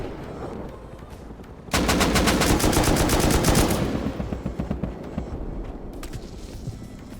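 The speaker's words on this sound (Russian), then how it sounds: "сейчас будет залп" A loud salvo of gunfire in the video game Rust erupts suddenly as a dense, overlapping burst of rapid shots, then thins into quieter, irregular volleys that continue to the end.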